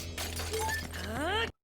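Clay pots shatter in a video game animation, a sharp crash with scattering breakage over a steady low hum, ending abruptly in silence.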